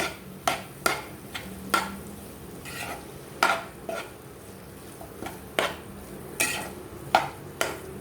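Mixed vegetables are stirred with masala in a kadai, a spoon scraping and knocking against the pan in irregular strokes over a soft sizzle of frying.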